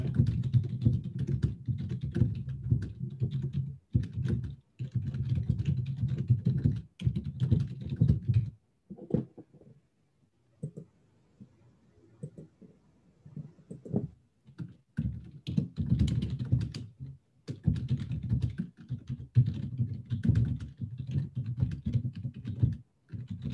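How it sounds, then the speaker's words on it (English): Rapid typing on a computer keyboard comes in bursts of clattering keystrokes, close and fairly loud, with a few pauses and a quiet stretch partway through. "Let me just type it."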